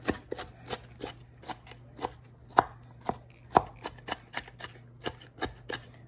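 A knife chopping food into big chunks on a board, a steady series of about fifteen crisp, close chops at an irregular quick pace over a faint low hum, with no talking.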